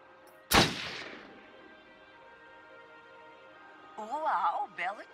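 A single sharp gunshot from the video game Until Dawn cracks out and decays, followed by a few seconds of quiet hum, then a person talks briefly.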